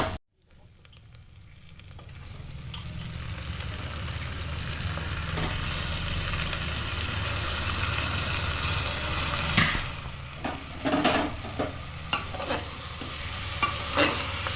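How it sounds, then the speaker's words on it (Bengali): Chicken pieces frying with lightly browned onions in a pan give a steady, close sizzle throughout, with occasional clicks and scrapes from stirring and no talk. "এবার চিকেনটা একটু ভাজা ভাজা হবে।"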